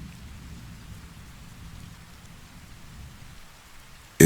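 Steady rain falls close by, soft and even, with a low distant rumble of thunder underneath and no voices.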